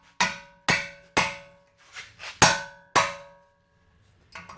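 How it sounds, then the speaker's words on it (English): A hammer strikes an impact screwdriver on the brake caliper bracket bolts of a 2006-2011 Honda Civic Si: about seven sharp, ringing metallic blows, spaced roughly half a second apart, each decaying quickly, close and alone. "You hit this with a hammer and it smashes down on it and turns at the same time."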